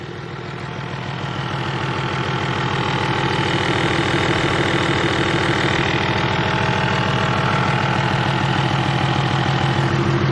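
A car engine idles steadily just after an ARP head stud install. It gives a close, even rumble with a fast regular pulse that grows slightly louder over the first seconds and then holds smooth with no talking.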